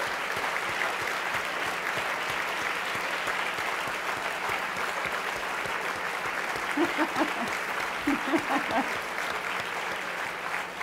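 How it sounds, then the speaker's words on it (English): Sustained applause from a summit audience in a large hall, continuous and fairly loud, with a few faint voices and a cheer rising through the clapping. "would you please stand up and receive an applause from the audience?"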